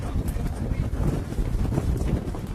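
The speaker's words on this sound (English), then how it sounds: "That's some wind coming up, though." Wind picking up at a beach during a windsurfing wave contest buffets the microphone as a dense, gusty low roar with wave noise mixed in, steady and loud for the whole stretch.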